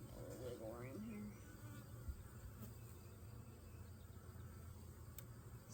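Honeybees buzz around an open hive in a continuous low drone, fairly close and steady, with a brief voice at the start and a few faint knocks.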